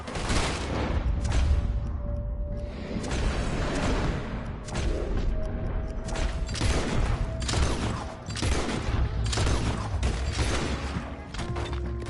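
Sustained volleys of gunfire in Red Dead Redemption 2, dense overlapping shots and booms filling the scene loudly and continuously for the whole stretch, with no voices on top.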